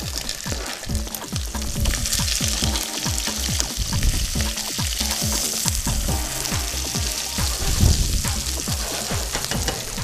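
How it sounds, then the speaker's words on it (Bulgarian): Meat, onion and garlic fry together in a pan for a spicy chicken dish, a loud, steady sizzle with repeated sharp crackles and stirring scrapes close up. "Вече месото се е запържило, ще добавим лука и чесъна."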